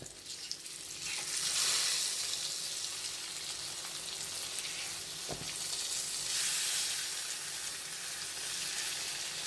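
Fish frying in a pan as it is flipped, a loud continuous sizzle that swells and eases, with a brief knock of the turn partway through.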